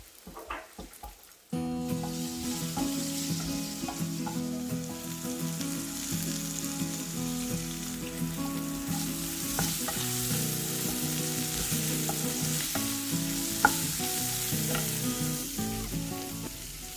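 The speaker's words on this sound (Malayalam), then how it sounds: "എന്നിട്ട് നന്നായിട്ട് ഇളക്കിയിട്ട് എല്ലാം കൂടി ഒന്ന് ഇളക്കി കൊടുക്കുക" Rice-flour ball mixture being stirred in a frying pan, a sudden start into a continuous sizzle with frequent scraping and clinking of the spoon against the pan, close and steady throughout.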